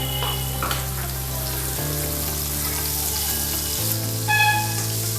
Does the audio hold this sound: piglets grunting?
no